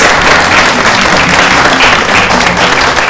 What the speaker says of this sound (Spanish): Aplauso para la profesora.